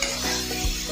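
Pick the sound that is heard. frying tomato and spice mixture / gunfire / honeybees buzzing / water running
frying tomato and spice mixture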